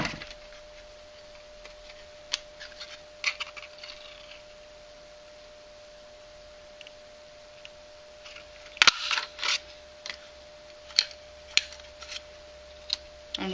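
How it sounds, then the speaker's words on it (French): A paper photo being hole-punched, heard as scattered sharp clicks and snaps, close and fairly loud, with one strong crunching punch near the middle over a quiet background hum. "Il me reste à perforer la photo."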